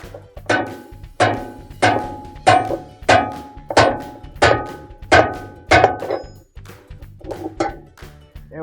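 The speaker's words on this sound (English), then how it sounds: "using a hammer we're going to tighten the hub nut" Metal-on-metal hammer blows on a spanner wrench tightening a GE washer's hub nut ring out in a steady series, about ten sharp clanking strikes roughly half a second apart, close and loud, with no talking.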